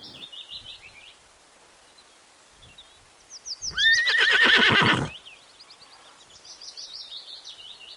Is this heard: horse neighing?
yes